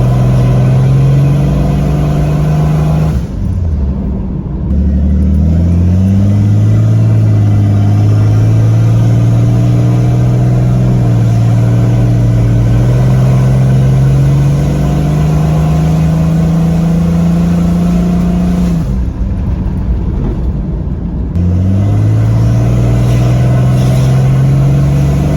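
A turbocharged Jeep engine on a road test, loud and close, pulling hard through rising gears with steady climbing drone and brief dips at shifts, running lean under high throttle.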